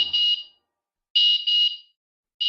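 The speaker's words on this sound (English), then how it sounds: "you can set your airbolt to activate an alarm when it moves too far away from your phone" Airbolt luggage tracker alarm sounding, a shrill electronic beeping in short separated bursts: one burst, a pause, then two bursts close together and another starting, loud and alone with nothing else heard.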